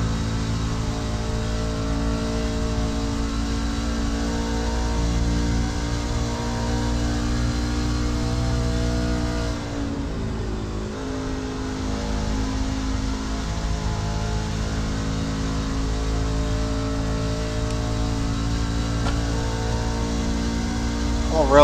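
A race truck engine in the iRacing sim at Atlanta Motor Speedway, a steady loud drone that dips briefly as the truck lifts off and then builds again on the throttle.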